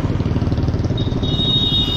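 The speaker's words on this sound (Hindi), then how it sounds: "आप देखो यहाँ गाड़ियाँ चल रही हैं रोड में" Steady traffic roar on the Chakarpur main highway, with a continuous broadband engine rumble and no breaks, plus a faint high tone toward the end.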